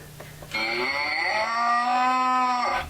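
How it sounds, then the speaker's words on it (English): A single loud, drawn-out moo, close and clear, rises after a short quiet lead-in and holds for about two seconds before breaking off. "Come on, let's have a moo."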